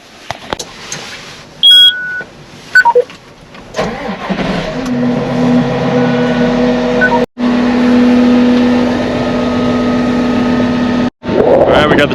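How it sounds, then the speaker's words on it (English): A tractor engine starts in a field before tillage work, with a few electronic beeps, then settles into a steady, loud idle as it warms up, briefly cut by two short dropouts. "Alright, we got the tractor warming up."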